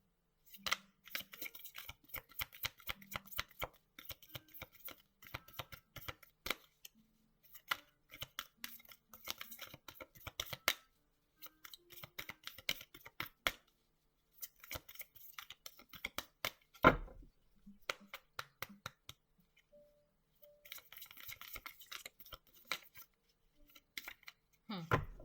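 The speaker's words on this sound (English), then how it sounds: "I'm gonna do that again because that was not a proper shuffle." Tarot cards are shuffled in repeated quick riffling bursts, close and crisp, separated by short pauses across the stretch, with no talking.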